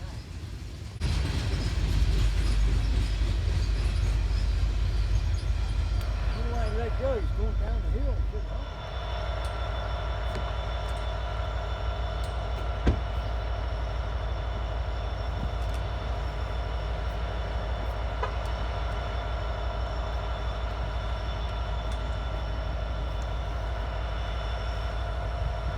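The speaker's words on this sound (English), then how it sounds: "The next train was 36A, a daily manifest from Conway, Pennsylvania, heading to Edgemoor, Delaware" Daily manifest freight train 36A, running from Conway, Pennsylvania, to Edgemoor, Delaware, passes on the Pittsburgh Line at Cresson on a hot July day. A loud, close rumble lasts about eight seconds, then drops to a steady, lower drone that continues.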